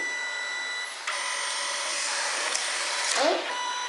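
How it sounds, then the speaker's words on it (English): A Kodak portable photo printer running a print job, a steady close mechanical whir with a few small clicks and shifts in pitch and a brief rising squeak near the end. "So now it says that it's printing."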